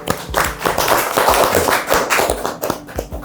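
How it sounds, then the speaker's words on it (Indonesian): A few people in a podcast studio clap for their guests, close, loud, irregular hand claps lasting a few seconds with no talking. "Sebelumnya kita tepuk tangan dong buat narasumber kita"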